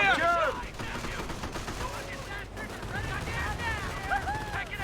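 Dense wartime gunfire in a Company of Heroes battle, US troops against Wehrmacht with half tracks and an Ostwind, rapid overlapping shots and bursts in a steady fusillade, with faint voices mixed into the din.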